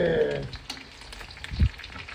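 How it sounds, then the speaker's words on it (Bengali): Fish frying in a pan at home, a broadband sizzling crackle that starts louder and settles into a steady low fizz, with a brief thud of handling partway through. "দেখো এই তোমার জন্য মাছ ভাজা করছি"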